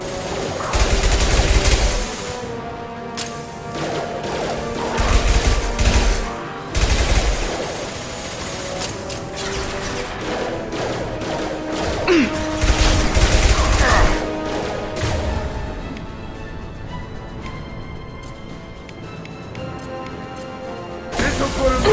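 Rapid automatic gunfire and bursts of shots in the Mass Effect video game, loud and dense with heavy impacts, over a steady game music and ambience bed, with no clear talk.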